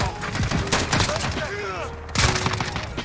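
FAL rifle fire in the video game Modern Warfare: several loud, sharp shots in quick bursts, then a pause and one more heavy blast near the end, with a voice talking over the gunfire.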